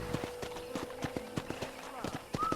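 Horse hooves clip-clopping while ridden in the Red Dead Redemption game: a quick, even run of close, clear hoof beats with a short whinny-like tone at the end.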